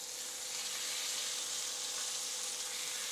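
Steady hissing sizzle of chicken frying in a hot pan, continuous and fairly quiet, with no talking.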